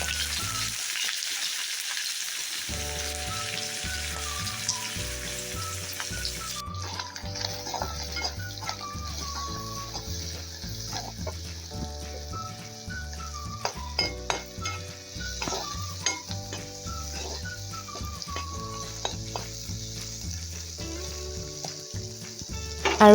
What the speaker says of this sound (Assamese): তেলখিনি গৰম হোৱাৰ পাছতে মই শুকান মাছখিনি দি লৈছো